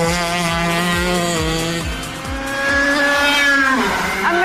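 Go-karts racing at a karting track, their high-revving engines whining close by with pitch rising and falling as they pass, several machines overlapping, loud and continuous.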